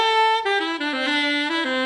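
Alto saxophone played with a very loose embouchure, a short phrase of sustained, bright reedy notes stepping downward, close and alone.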